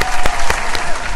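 A few people clap loudly and close by in a short, quick burst of rhythmic claps.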